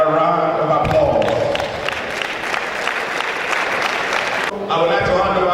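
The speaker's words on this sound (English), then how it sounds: "I believe our guest speaker deserves another round of applause." An audience at a formal institution event gives a guest speaker a sustained round of applause, a steady wash of many hands clapping. Talk is heard just before and after it.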